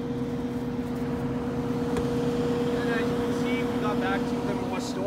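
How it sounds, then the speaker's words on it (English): Loud Cummins ISL 450 diesel engine of a 2019 Winnebago Horizon motorhome idles with a steady low hum and drone, while a voice talks briefly over it toward the end. "you got to hear the nice loud ISL 450 Cummins engine there"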